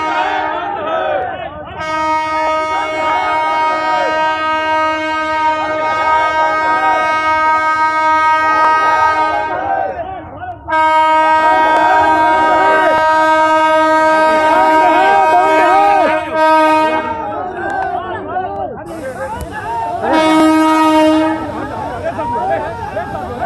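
A moving train sounds its horn in long sustained blasts in Nalanda district, Bihar, with the sound breaking off and resuming several times over rumbling wheel noise. Voices are faintly heard beneath.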